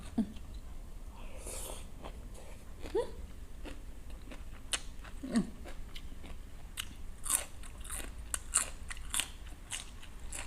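Someone eats mok nor mai, a Thai steamed bamboo shoot dish, with soft crunching bites and chewing that come close up in irregular bursts over a quiet background.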